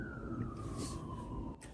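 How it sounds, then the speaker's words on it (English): A police car siren wails at a distance, one long steady tone drifting slowly downward over a low rumble of traffic, heard alone without speech. "police car."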